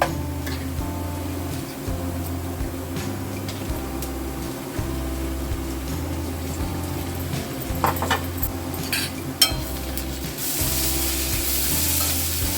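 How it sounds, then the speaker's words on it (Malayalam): Crushed ginger, garlic and green chilli fry with browned onion in a pan, a steady close sizzle broken by the scrape and clink of stirring, with a louder hiss rising at the end. "ഇതിനകത്ത് ഇഞ്ചിയും വെളുത്തുള്ളിയും പച്ചമുളകും കൂടെ ചതച്ച് ഇട്ട് കൊടുക്കുക"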